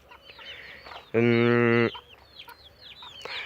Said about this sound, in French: les derniers petits poussins, ceux de la poule gris perle